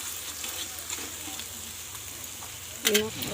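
Onions fry in oil for a dried shrimp dish, giving a soft, steady sizzle close by, with a brief utensil clatter near the end.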